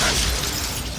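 A Bombarda explosion spell cast in Hogwarts Legacy produces a single loud, broad blast that fades quickly within one second.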